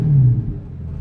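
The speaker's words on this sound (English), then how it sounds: "this is his Iron Man Audi R8 V8 straight pipe" A straight-piped Audi R8 V8 gives a short, loud, deep burst of exhaust rumble that fades slightly within about a second.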